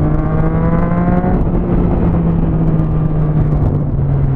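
A turbocharged car's engine drones loud and steady nearby, its tone shifting slightly as it moves along a street, with no speech.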